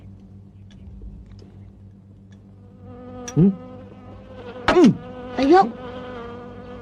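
Flies buzz steadily through a scene in a Boboho martial-arts comedy film. A few louder, sharper rising buzzes stand out near the end, and a voice speaks one brief word.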